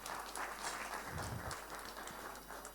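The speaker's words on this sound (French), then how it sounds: "Applaudissez s'il vous plaît." A wedding crowd applauds during a double ceremony for twin sisters, steady dense clapping for a few seconds, fairly close and uninterrupted.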